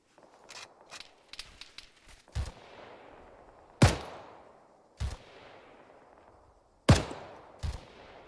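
Rifle gunfire in a military shooter game, a handful of sharp isolated shots spaced a second or more apart, each with a decaying echo tail, some loud and near, others fainter, with no talk.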